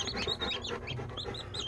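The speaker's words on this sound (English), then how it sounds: "Little baby chickens." Newly hatched baby chicks give a quick run of high, thin peeps, close and fairly soft, with no talk over them.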